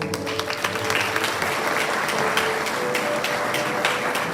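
A high school senior awards crowd gives a round of applause, dense and loud clapping that runs steadily throughout with no talking over it.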